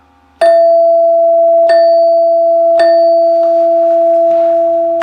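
A NuTone 8-note Westminster bar chime sounds its side-door ring, two tone bars struck together in three loud, bright chords spaced about a second apart, each leaving a long sustained ringing tone beneath, with no talk.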